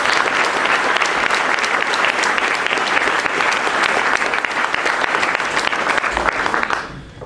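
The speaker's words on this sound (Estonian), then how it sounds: "Aplaus õpetajad" Sustained applause fills a graduation ceremony hall in honour of the teachers, dense and steady clapping from a large crowd that holds for about seven seconds before tapering off abruptly.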